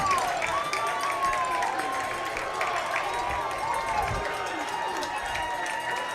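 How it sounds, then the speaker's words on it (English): A football crowd applauds and cheers after a 7-6 homecoming-night win by the Colonels over Daviess County, a steady wash of distant clapping and crowd noise with commentators talking over it. "Those who stick around on their feet applauding"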